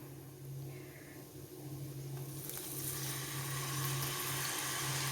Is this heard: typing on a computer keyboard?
no